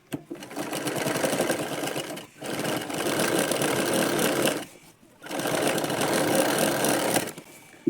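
A sewing machine stitches a lined blouse with four tucks in three loud, close bursts of rapid needle clatter, separated by brief pauses.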